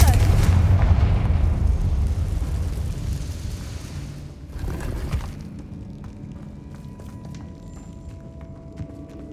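A Confringo blasting spell explodes in Hogwarts Legacy, a loud rumbling burst at the start that decays over several seconds, with a second thud around the middle, then fades to quiet ambience.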